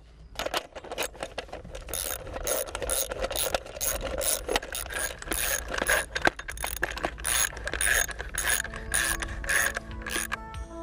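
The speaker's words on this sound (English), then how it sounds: "Remount the three bolts and tighten them properly." A ratchet tightens bolts on the nose cone of an SQFlex wind turbine, producing steady close metallic clicking and rasping for about eleven seconds, with rubbing and faint tonal squeaks from the turning parts.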